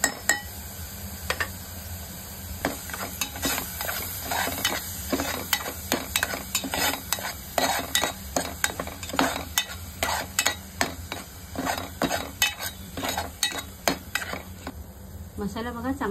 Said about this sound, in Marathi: मसाला चांगला तेल सुटेपर्यंत आपल्याला फ्राय करून घ्यायचा आहे.